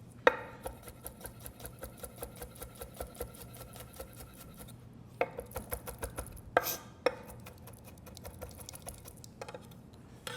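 Knife chopping garlic cloves on a cutting board for fried rice: rapid, steady taps close up, continuing in bursts for several seconds with short pauses and a few sharper knocks.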